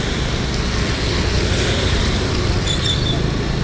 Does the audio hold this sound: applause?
no